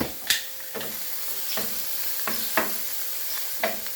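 Food frying in cooking oil in a home kitchen, a steady close sizzle broken by several sharp scraping clinks of a spatula stirring the pan, with no talking.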